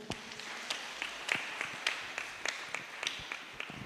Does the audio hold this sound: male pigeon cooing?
no